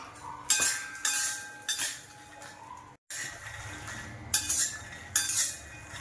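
A dry fruit mixture for sugar-free laddoos is roasted in a pan, with repeated bursts of metallic scraping and clinking as a spoon stirs it over a low background hum.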